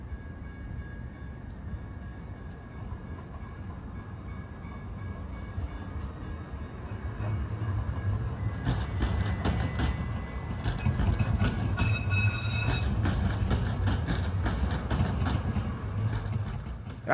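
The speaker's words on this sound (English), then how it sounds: "I actually took the train to the convention" Heading to a comic convention in Portland, a passenger train rumbles steadily from inside, a low continuous drone with faint rhythmic clatter and occasional squeals and rattles that grow louder midway through.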